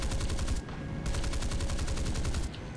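Rapid aircraft gunfire from a Meteor F8 fighter strafing in a combat video game, two fast, loud bursts of evenly spaced shots separated by a brief pause, continuous and mechanical.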